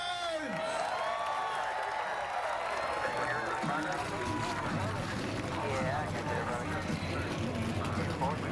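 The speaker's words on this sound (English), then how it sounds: "Drivers, start your engines!" Many NASCAR stock car engines fire up at a 400-mile race, a roar building from about four seconds in and holding steady, mixed with crowd noise and a loud announcer's voice over the start.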